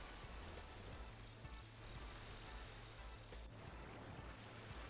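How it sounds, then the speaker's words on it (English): A waterfall in the Final Fantasy VIII video game gives a constant broadband rushing roar, a dense, steady wash with no distinct events and no talking. "Waterfall."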